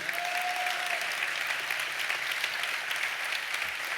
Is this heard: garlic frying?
no